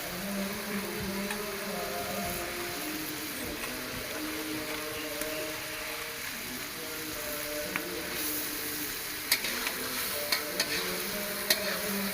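Fish heads dropped into onion masala frying in oil for a cauliflower and fish-head curry, giving a steady, close sizzle throughout with a few sharp clicks of utensils near the end and no talking.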